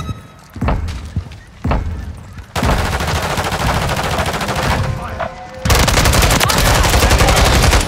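Automatic gunfire in Call of Duty Modern Warfare III during a Domination match on the Highrise map in New York City, loud sustained bursts after a few single shots, with sharp impacts and shouted callouts mixed in.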